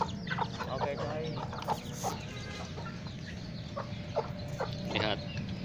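Free-range village chickens cluck and squawk in a busy flock, their short, repeated calls scattered near and far over a steady low rumble.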